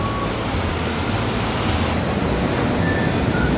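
Steady ocean surf and a breeze wash over Hikkaduwa beach in Sri Lanka, a continuous broadband rush with no distinct wave breaks, close and fairly loud, with no voices.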